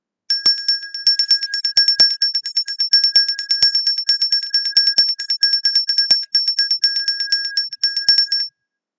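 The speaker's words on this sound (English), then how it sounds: "I will ring the bell." A bell rung rapidly and repeatedly in a fast, steady stream of bright metallic rings with clear ringing tones, loud and alone for about eight seconds.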